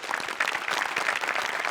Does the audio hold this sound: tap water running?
no